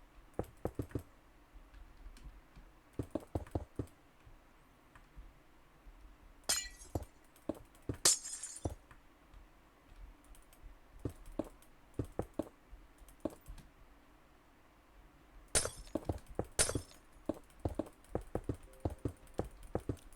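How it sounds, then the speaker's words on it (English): Computer mouse and keyboard clicking while building a large base in The Survivalists, coming as scattered bursts of sharp clicks with brief pauses, close and fairly quiet, with no talking. "A lot of clicking, sorry about this."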